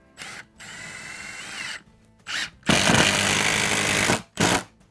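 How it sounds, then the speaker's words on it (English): Power drill driving screws into the wood of a workbench under construction, several close, loud bursts of whirring with short pauses between them, the longest run near the end. "So I'm going to put 4 screws in the bottom and 4 in the top."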